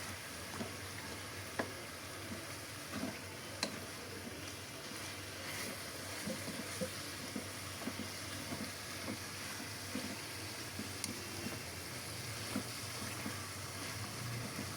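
Fatty meat frying in a little oil in a pan, a quiet, steady low sizzle with small scattered pops and crackles throughout.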